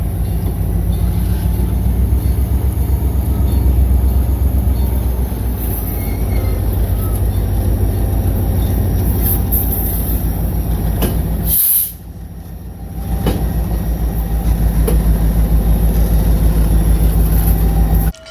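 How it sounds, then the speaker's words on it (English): A passenger train hauled by diesel locomotives rumbles past close by, a loud steady roar with a deep engine drone and rolling wheel noise, briefly cut off near the end before resuming. "He's filmed passenger trains that are run by diesel locomotives."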